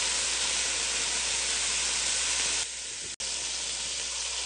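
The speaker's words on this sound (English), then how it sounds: "we just want to flip them and stir them on that other side" Meat pieces brown in a pan for an Italian stew, giving a loud, even sizzle. About two-thirds through, the sizzle drops suddenly and quiet, then a brief gap follows before it resumes.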